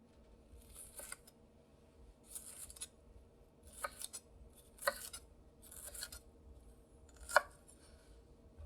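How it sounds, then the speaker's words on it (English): A kitchen knife slices through cooked vegetable flesh into strips, giving soft, scattered cuts about once a second, with a few crisper taps of the blade on the board, close and quiet. "Now, we're not cutting the skin anymore. We're cutting the flesh. So your knife is gonna cut much better and much easier."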